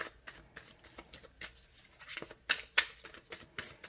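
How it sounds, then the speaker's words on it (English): A deck of tarot cards is shuffled by hand, giving quiet, irregular papery flicks and rustles with a couple of sharper snaps near the end. "It's the end of the shuffle."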